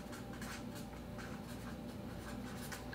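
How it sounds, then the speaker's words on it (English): Pen scratching on paper as an email address is written out by hand, making a soft continuous scribble of short strokes. It is close but faint, with no talk. "I'll just write it down right here"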